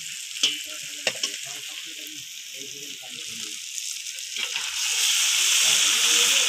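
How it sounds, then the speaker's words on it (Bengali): Spices and chili powder sizzle in a hot pan, starting with soft stirring clatter and a couple of sharp clinks, then swelling into a steady, louder frying hiss toward the end. "লঙ্কার গুঁড়ো দিয়ে কিছুক্ষণ কষিয়ে নিয়ে দিয়ে দিব মাংস"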